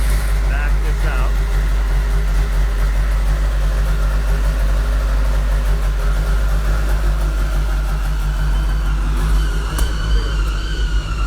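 Car engine idling and running low and steady while the car is backed out at an Esslinger Engineering shop, a constant rumble with a brief higher whine near the end, speech heard faintly.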